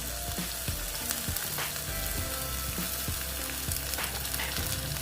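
Onion and ginger paste fries in a pan for an ash gourd dish, giving a steady, close sizzle broken by short scraping knocks of stirring, with no talking.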